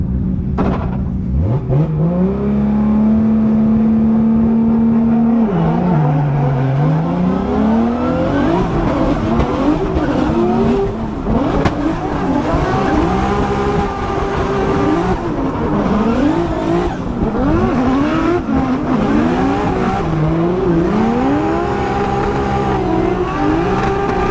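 A BMW E36 race car laps a track at full throttle, its engine loud and close as it revs up and down through repeated gear changes and corners for over twenty seconds, with no talking.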